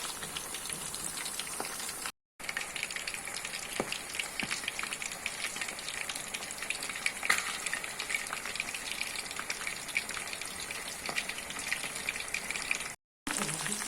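Chicken kabab pieces deep-fry in a pan of hot oil, giving a dense, steady bubbling sizzle close by with scattered pops. The sound cuts out briefly twice.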